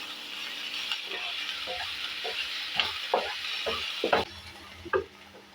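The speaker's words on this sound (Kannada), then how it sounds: "ಹಾಕಿಬಿಟ್ಟು ಚೆನ್ನಾಗಿ ಈ ಥರ ನಾವು ಫ್ರೈ ಮಾಡ್ಕೊಳ್ಳೋಣ" Sliced onions frying with salt in a pan for onion chutney, stirred steadily: a constant bright sizzle with intermittent scraping thumps of the spoon against the pan, close and clear.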